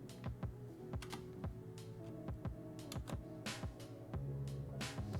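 Computer keys clatter in quick, uneven bursts of close typing and shortcut presses, crisp individual clicks over a low steady hum, with no voices.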